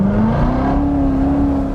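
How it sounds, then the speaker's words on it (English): A C7 Corvette Z06 exhaust drones loudly as the car accelerates, with a steady rising engine tone that fills the clip without pause. "the exhaust sound"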